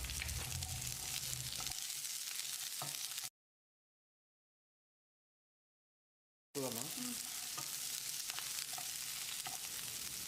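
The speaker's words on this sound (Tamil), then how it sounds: "இதோட 1 கை அளவுக்கு சின்ன வெங்காயத்தையும் சேர்த்து வதக்கிடலாம்." Shallots sizzle steadily as they sauté in a hot pan, with occasional stirring clatter, broken by a few seconds of complete silence midway.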